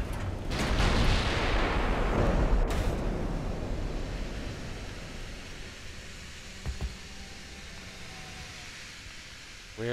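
Triple-turret 14-inch naval guns fire in the warship game Ultimate Admiral Dreadnoughts, a deep, heavy boom that rolls into a long, fading rumble, followed by a couple of faint distant thuds.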